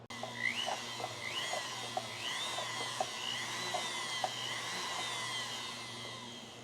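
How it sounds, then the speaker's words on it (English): High-speed rotary tool at around several thousand RPM whines as it cuts straight lines through the edge of a wooden bowl, a steady thin drone with repeated rising pitch sweeps as each pass bites, fairly quiet with a low hum beneath. "I'm going to cut just some straight lines all the way through the edge of this bowl."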